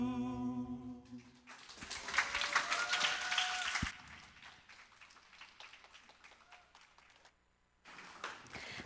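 Audience at an English speaking contest applauds after a choir performance, a burst of clapping of moderate loudness that swells and then thins out before a short renewed patter.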